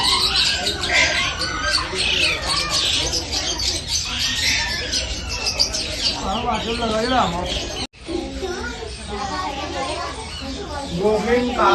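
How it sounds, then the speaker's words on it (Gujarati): A Goffin's cockatoo at a Kankaria aviary gives harsh squawks and chirps amid other calling birds, with people talking throughout and a brief cut partway. "ગોફિન કાકા કૌવા, ગોફિન કાકા કૌવામાં। ગોફિન કોકટેલ,"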